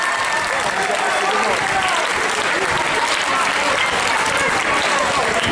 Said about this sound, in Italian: per cui vi chiedo un super mega applauso ad Angelo Di Nella.